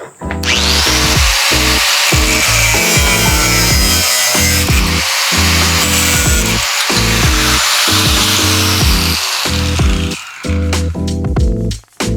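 Loud, continuous power-saw cutting through metal exhaust support on a 420cc Yerf-Dog Cadillac go-kart, harsh high whine broken by brief pauses into choppy bursts, near and steady for most of the clip.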